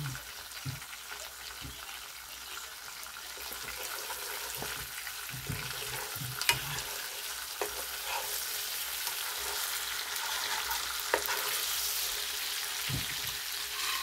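Tilapia fries in a pan of hot oil with a constant close sizzle, while occasional knocks and scrapes mark the fish being stirred and flipped.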